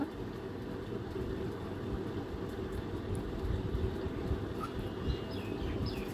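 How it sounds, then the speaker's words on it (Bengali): A train passes quickly over the century-old Paksey railway bridge, a steady low rumble and rattle heard from onboard throughout, with faint bird chirps near the end. "যেহেতু পাখিতে ট্রেন থামে না এর জন্য খুব দ্রুত ট্রেনটি চলে যাচ্ছিল"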